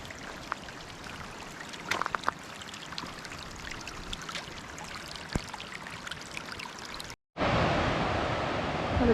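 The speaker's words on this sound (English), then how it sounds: "Pretty little stream." A small stream in a river gorge trickles and burbles softly and continuously nearby, with faint scattered knocks, then a brief dropout before a louder rush of water.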